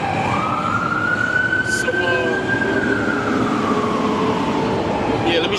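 An ambulance siren wails across a Brooklyn street, one long rising and falling tone sweeping slowly over steady traffic rumble, moderately distant, with a brief spoken word near the start.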